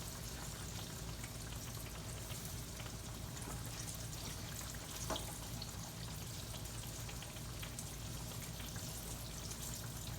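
Green tomatoes and yellow squash fry in a pan of hot oil, giving a steady, quiet, crackling sizzle that runs on without a break and with no one speaking.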